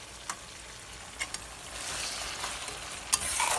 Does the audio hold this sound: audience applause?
no